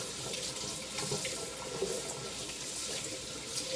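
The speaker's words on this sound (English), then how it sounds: "But just give it a quick rinse." Kitchen tap runs steadily into a sink while guacamole ingredients are rinsed, a continuous close splashing hiss with no voices.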